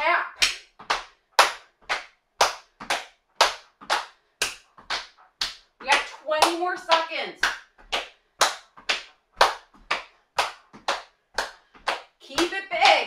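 Steady, rhythmic hand claps repeat roughly every half second through a home workout of big jumping-jack style moves, with an instructor's voice calling out encouragement over the beat.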